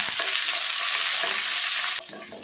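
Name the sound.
spices and lentils frying in pan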